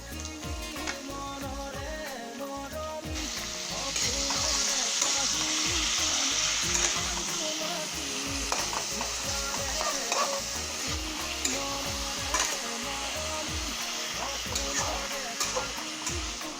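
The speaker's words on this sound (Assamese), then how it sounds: "কেৰাহীত আমি মাংসখিনি দি যাম।" Chicken meat frying in a kadai at home, a steady loud sizzle with scraping stirring strokes throughout, intensifying after a few seconds.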